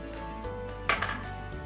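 A bowl and utensils clink softly while a marinade is prepared, with a few faint taps and one brighter metallic chink, with no talk.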